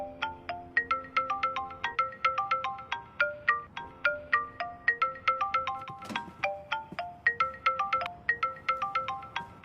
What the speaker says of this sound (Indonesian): teleponnya berdering